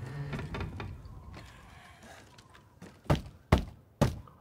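Three loud, hollow thuds strike in quick succession near the end, like knocks on a heavy door, after quieter shuffling sounds, in the video game Resident Evil Village.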